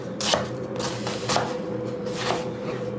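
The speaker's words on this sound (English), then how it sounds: "we're going to thinly slice our onions" A knife thinly slicing onions on a board while cooking chicken Alfredo, three crisp, evenly spaced cuts about a second apart, close up over a low background hum.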